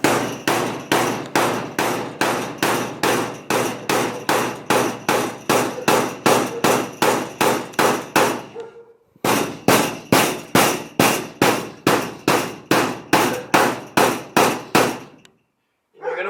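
A mallet strikes truck bed sheet metal being bent, each blow a loud, sharp, ringing clang in a fast, even rhythm, about two per second, with one short pause midway and a stop near the end.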